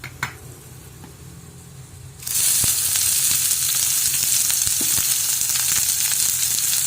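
Chopped onions hit hot oil in a pan for village-style wild mango gojju, setting off a loud, steady sizzle that holds without pause after a quieter start, with a faint stir or two.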